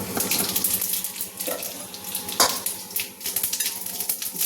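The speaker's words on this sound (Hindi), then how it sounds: "जीरा तड़क जाने दीजिएगा, वरना जीरा तेल में नहीं रखेंगे" Cumin seeds crackle in hot oil for a methi malai sabzi, a close, continuous sizzling hiss dotted with sharp pops and spits, with no talking over it.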